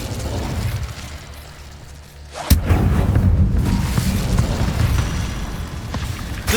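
An Incendio fire spell is cast in Hogwarts Legacy, a sudden loud whooshing burst at mid-clip that flares into a sustained roaring crackle of flame, set against steady game ambience.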